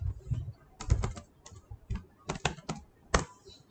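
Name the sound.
typing a command on a computer keyboard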